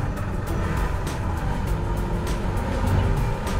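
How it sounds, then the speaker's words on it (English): A 2020 Toyota Prius AWD-e strains on a slip test rig with its front wheels spinning, giving a steady loud engine and tire drone that swells slightly toward the end, with no talk. "Both front wheels are really spinning furiously, but no action to the rear."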